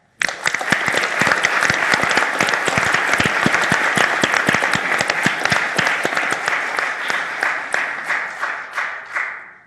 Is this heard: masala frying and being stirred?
no